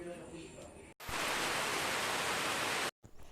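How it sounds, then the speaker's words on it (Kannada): Heavy rain pours in a loud, dense, steady hiss for about two seconds, framed by abrupt cuts. A quieter stretch of voice comes before it. "ಮಳೆ ಸಹ ಉಂಟು, ಭಾರಿ ಮಳೆ ಈಗ."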